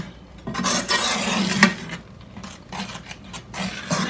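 Eggplant dip ingredients cook in a pot, with a spoon scraping and clinking against the metal in repeated stirring strokes over a soft background sizzle, close and clear with no speech.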